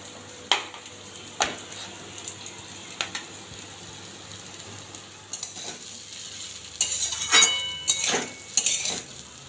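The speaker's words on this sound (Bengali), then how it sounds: "এই যে মশলার সঙ্গে চালটা একটু কষিয়ে নিয়েছি, এবার এর ভেতরে দিয়ে দেবো আমি ভেজে রাখা আলুগুলো।" Gobindobhog rice fried with spices and fried potatoes in a pan: a soft steady sizzle under intermittent scrapes and clinks of a stirring utensil against the pot, growing busier toward the end.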